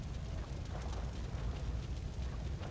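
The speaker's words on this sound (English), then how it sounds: "And stay far away from the explosion." A fire and explosion in the video game Bioshock, after a plane crash at sea, heard as a deep, continuous roaring rumble with a crackling wash on top, fairly quiet, no voices.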